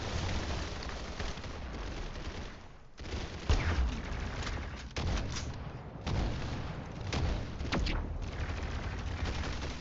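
Pistol gunfire in the first-person shooter game Arsenal during a fight inside a large house, a run of sharp game shots and bursts at moderate volume with no talk over them.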